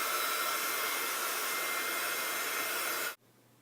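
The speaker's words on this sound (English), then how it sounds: "I have my Zap American Crafts heat gun" A Zap American Crafts heat gun blows a steady, loud whoosh as it heat-sets ink on a cork trivet, running continuously before cutting off abruptly near the end.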